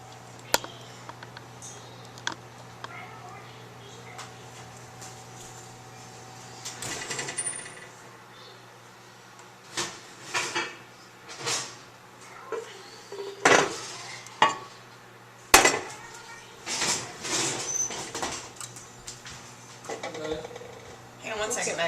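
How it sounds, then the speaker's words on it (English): A pan is pulled out and no-knead bread dough is flopped into a hot pot, giving scattered metallic clanks, knocks and scrapes close by, with louder bangs clustered in the second half over a steady low hum. "I'm going to get the pan out and just flop this down into the pot"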